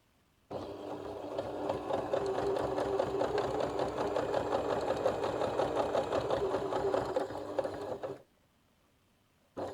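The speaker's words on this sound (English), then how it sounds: "So I'm sewing," Sewing machine stitching the cord channel of a laundry bag, running steadily for about eight seconds with a close, continuous rapid whir and needle chatter, then stopping abruptly.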